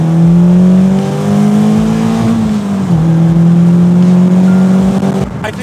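A 2019 Caterham 270S accelerates hard in Mexico, its loud, close engine note climbing steadily, dipping briefly at a gear change and then pulling up again before easing off at the end.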